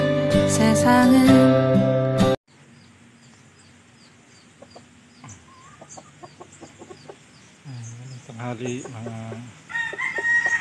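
Backyard free-range chickens cluck and a rooster crows at moderate distance, following loud music that cuts off abruptly; a voice speaks briefly amid the birds.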